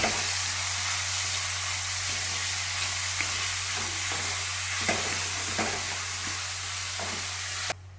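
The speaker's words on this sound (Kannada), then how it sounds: "ಇದು ತೊಳೆದು ಮತ್ತೆ ಕಟ್ ಮಾಡಿ ಇಟ್ಕೊಂಡಿರೋ ಮಶ್ರೂಮ್ ನ ಎಣ್ಣೆಲಿ ಹಾಕೊಂಡು 1 ರಿಂದ 2 ನಿಮಿಷ ಫ್ರೈ ಮಾಡ್ಕೊಂಡ್ರೆ ಸಾಕಿದು" Washed, chopped mushrooms frying in hot oil make a steady close sizzle for a Kannada mushroom gravy, with occasional soft stirring scrapes, no voices, and the sound drops away abruptly at the very end.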